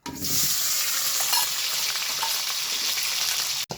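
Potatoes fry in oil left over from frying fish fritters, a loud, steady sizzle with stirring scrapes throughout, close and without talk.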